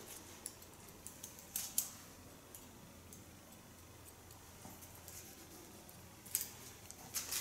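Ultra fine 4.5 cobalt scissors point cut a man's hair at the neckline, faint crisp snips in sparse clusters over a quiet room background, no talk.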